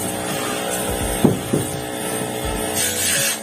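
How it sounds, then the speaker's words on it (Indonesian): Water spray cleaning an indoor air conditioner unit at a service setting, a steady hissing wash with a couple of brief knocks partway through. "Atas semua bagian pastikan semuanya terkena semprotan ya,"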